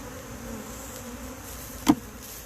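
Honey bees buzzing around an open hive, a steady close hum of many wings with one bee zipping loudly past near the end, no voices.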